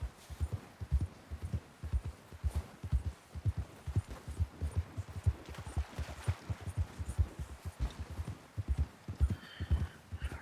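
Horse trotting in Red Dead Redemption 2, a steady two-beat clip-clop of hooves repeating evenly throughout, fairly soft and close with no talk over it.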